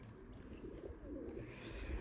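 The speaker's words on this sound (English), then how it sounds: "These birds are just so beautiful" Pigeons or doves coo softly at a villa, faint low calls blending into a quiet outdoor hum with a brief hiss near the end.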